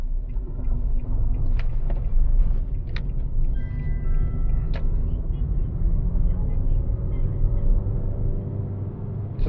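Steady, low engine and road rumble from inside a Nissan Lafesta MPV with a CVT as it accelerates. The drone holds an even, continuous level without distinct gear changes.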